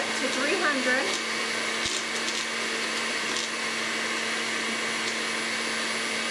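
An electric mixer whirs steadily as it beats hazelnut macaron batter, a continuous motor drone with a faint whine holding level throughout, with no one speaking.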